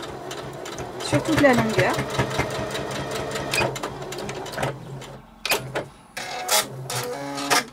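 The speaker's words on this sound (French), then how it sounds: "Et je fais ma couture au point droit comme d'habitude." A sewing machine runs a straight stitch along a fabric face mask in steady mechanical bursts with short pauses, close and loud, while someone speaks French over it.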